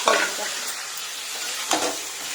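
Potatoes and pointed gourd stirred in a frying pan, dry frying with a steady close sizzle and two brief louder scrapes of the spatula.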